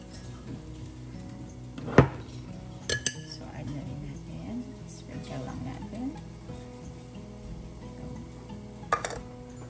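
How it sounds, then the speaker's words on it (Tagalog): Ube halaya ingredients stirred in a pan over low-medium heat, with utensil clinks and scraping against the pan, a few sharper metallic knocks standing out over steady low kitchen noise. "So, after natin malagay yung mga ingredients, i-mix lang natin."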